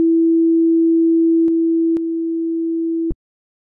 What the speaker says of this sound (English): Now you have your basic sine waves.